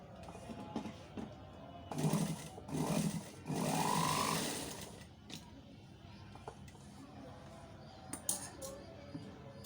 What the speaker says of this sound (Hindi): इसको सिलाई लगा दें